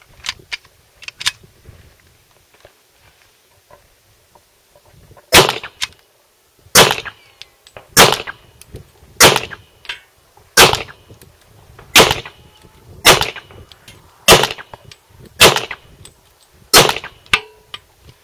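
A Hi-Point .40 caliber pistol fires downrange: about ten sharp, loud shots at a fairly even pace, each a crisp crack with a short ring, after a few fainter clicks at the start.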